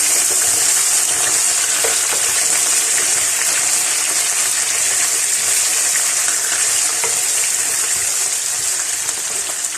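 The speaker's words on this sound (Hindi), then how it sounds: "अब इसके अंदर मैं चिकन ऐड करूंगी। तो मिक्स कर लेंगे।" Chicken fries loudly with browned onions in a pan while being stirred, a dense continuous sizzle close up with no pauses, for a green chicken dish.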